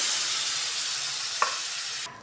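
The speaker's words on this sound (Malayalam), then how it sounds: "ഞാനിവിടെ ചൂടുവെള്ളമാണ് ഒഴിച്ചു കൊടുക്കുന്നത്." Hot water poured into a pan of curry for a Kerala lunch: a steady, loud sizzle and steamy hiss with a small clink near the end before the sound abruptly drops off.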